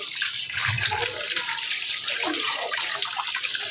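Tap water runs steadily into a sink as fish are washed, a continuous close splashing hiss with faint clatter underneath.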